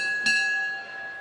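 A boxing ring bell at a professional bout strikes once with a bright metallic ding, then rings on and fades slowly over about a second, with no talk.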